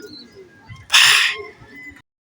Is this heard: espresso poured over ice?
no